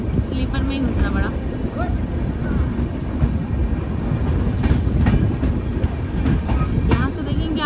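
Steady rumble and rattling clatter of the Poorvottar Sampark Kranti express train in motion, heard from inside a crowded sleeper coach, with faint voices and occasional chatter mixed under the continuous rolling noise.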